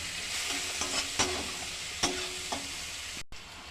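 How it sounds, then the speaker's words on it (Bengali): Garlic and onion frying in a pan for a potol and prawn curry, with a steady sizzle and a few sharp scrapes of a spatula stirring, close and alone with no talk. "আমি রসুনটা পেঁয়াজটা ভালোভাবে ভেজে নেব"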